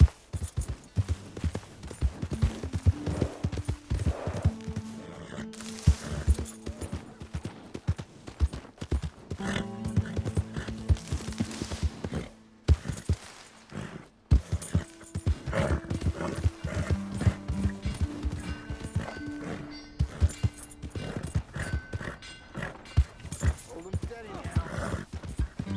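Horse galloping with hooves clip-clopping in Red Dead Redemption 2, a steady rhythmic beat under game music and spoken dialogue, with an occasional whinny.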